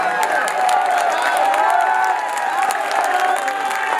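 An audience at a ghazal recital claps and cheers steadily throughout, a dense, lively patter of many hands at moderate loudness with no pauses.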